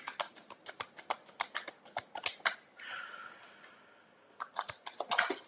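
Tarot cards being shuffled by hand: a quick run of crisp, papery riffles and taps, then a steady brushing rush for about a second, then more sharp flicks, close and fairly quiet.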